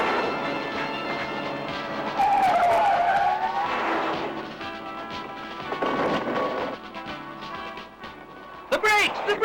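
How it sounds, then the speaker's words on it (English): A car skidding out of control after brake failure, a long tire screech rising and falling through the run, with engine roar and rumbling and a brief sharp squeal at the end, plus shouting voices. "The brakes! The brakes! She's out of control!"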